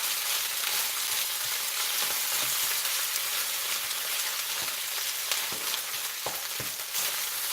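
Fried carrot cake sizzles and crackles steadily in an overly hot pan, with a dense, continuous frying hiss and scattered sharp pops and stirring ticks, no voices over it.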